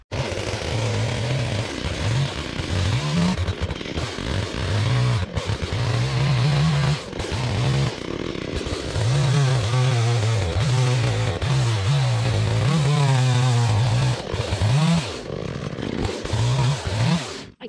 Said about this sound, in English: then get the chainsaw out